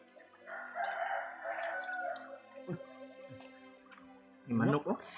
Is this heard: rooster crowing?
yes